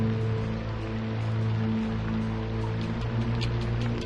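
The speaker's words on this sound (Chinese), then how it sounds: "下雨了。" Steady rain falls on an outdoor mountain setting beside an ancient riverside clan site, a continuous dense patter that stays even throughout, with a low constant hum underneath.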